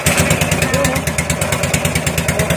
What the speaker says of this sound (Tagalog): Andarin na natin ang bangka.